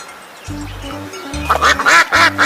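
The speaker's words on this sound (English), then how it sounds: "duck," A cartoon farm duck gives a few loud, close quacks, starting with nasal honking calls and then a quick run of raspy quacks, each alone and clear.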